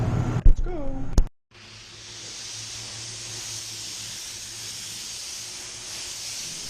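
Spray gun fitted with a WS400 1.4 tip at 35 psi laying down EC 530 finish, a steady close airy hiss that runs unbroken after a brief burst of talk and a short pause.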